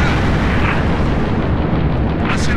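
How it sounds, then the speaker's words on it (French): Seraph ship weapon fire in Halo Reach: a dense, loud, continuous roar of blasts and explosive bursts filling the whole stretch, with no talking. "Un Séraph me tire dessus."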